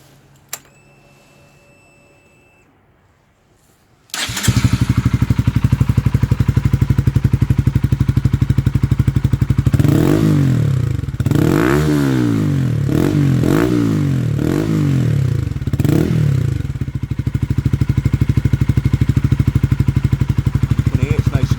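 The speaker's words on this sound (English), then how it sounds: "this is what it sounds like with the baffling on the new Scorpion exhausts." Motorcycle fitted with new Scorpion exhausts with the baffles in, starting up after a quiet few seconds, then idling loudly with several sharp throttle blips in quick succession and a steady rumble throughout.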